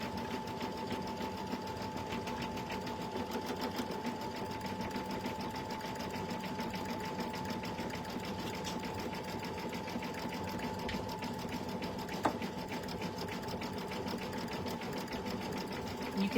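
An embroidery sewing machine stitches out a freestanding design, its needle running in a fast, steady, even rhythm for the whole stretch with a soft mechanical hum beneath.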